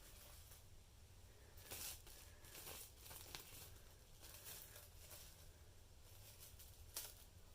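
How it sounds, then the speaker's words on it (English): Saran plastic wrap crinkles and rustles as it is handled and pulled apart, sticking to itself, with irregular crackling bursts and snaps over a low background hum. "Like all Saran wrap, it likes to stick to itself and give us a hard time."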